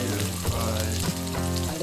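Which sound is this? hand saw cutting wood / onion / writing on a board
onion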